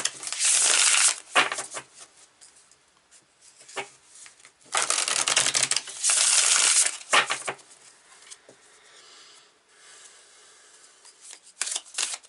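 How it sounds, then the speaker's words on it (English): A deck of tarot cards is shuffled in several close, crisp bursts of riffling and flicking, separated by quieter pauses, with no talking over it. "Let's pull some cards for this beautiful reading."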